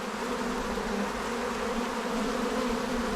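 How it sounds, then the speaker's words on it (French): A dense swarm of honeybees buzzes continuously and close by, a steady droning hum at even loudness throughout with no voices. "C'est blindé d'abeilles."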